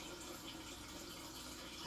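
Aquarium filter outflow pouring as a small waterfall into a tank, a steady soft splashing trickle that runs evenly throughout, with a brief louder bump at the very end.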